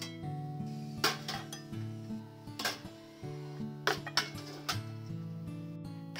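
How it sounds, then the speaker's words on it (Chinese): Glass 500 ml jars of homemade tomato sauce, their lids resting loosely, are set into a pot, giving a handful of sharp clinks over steady background music. "下来把瓶子放入锅中，"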